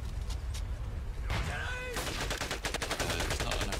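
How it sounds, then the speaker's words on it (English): Rapid machine gun fire in the WWII shooter game Medal of Honor: Pacific Assault, a dense run of sharp repeating shots in the second half, loud and close, mixed with other game noise and brief whistling sounds. "And that was a machine gun."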